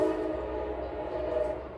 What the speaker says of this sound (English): And that's the train.